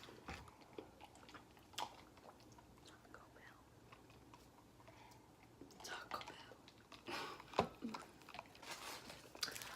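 Close, quiet chewing and crunching on a leftover Taco Bell cheesy gordita crunch, with soft irregular bites that grow louder toward the end, mixed with low whispery mouth sounds.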